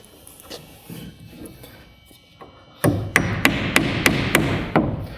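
Wall sheathing is tacked in place with 8-penny nails on framed walls: after a few quieter knocks, a run of sharp, close, loud hammer blows follows in a fairly quick, steady rhythm.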